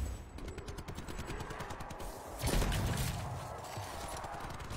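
Rapid bursts of Blundergat fire in Call of Duty Black Ops 4 Zombies, a clattering string of shots with a sharper blast midway, fairly faint amid game sounds.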